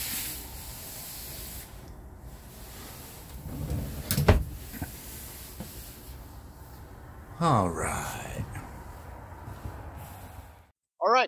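Deep drawers slide and thud shut inside a 2024 Coachmen Clipper ROK 12000 teardrop camper, with a sharp knock near the middle, a scraping glide later and a final brief bang, all close and fairly quiet over low room noise.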